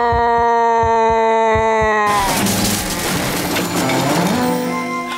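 A cartoon sheep bleats in a long, wavering, loud cry, followed by a crashing tumble as a tree falls nearby in an animated farm scene.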